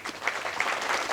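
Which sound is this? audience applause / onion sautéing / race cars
audience applause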